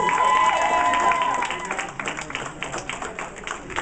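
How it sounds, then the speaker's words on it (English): An audience applauds and cheers for a Texas Chainsaw Massacre reunion, loud clapping at first and then tapering into scattered claps with a voice talking over it. "How about a big round of applause for the TCM reunion, guys?"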